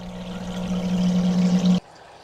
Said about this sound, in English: Alright, now the filter's going